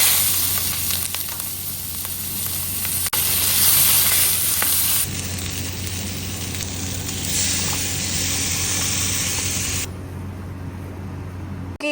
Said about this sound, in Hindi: अभी मैं इसे डीप फ्राई करके स्टेन कर लूँगी